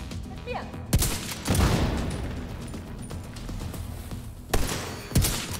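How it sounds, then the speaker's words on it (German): In The Division 2, a fired grenade and surrounding gunfire produce loud, sharp blasts: one near the start, another soon after, then a pair near the end, over a continuous rumble of combat noise. "Eine Granate da reinfeuern."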